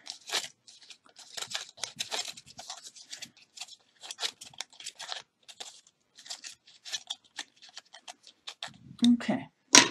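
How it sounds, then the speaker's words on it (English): Thin paper from a spiral flower die cut being twisted and curled with a bone folder, giving soft crinkly rustles and small tearing crunches in irregular bursts, close up and fairly quiet. "So I'm going to just use my bone folder and break the paper up, twist it,"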